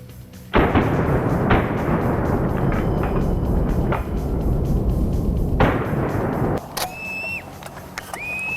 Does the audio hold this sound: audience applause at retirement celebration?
no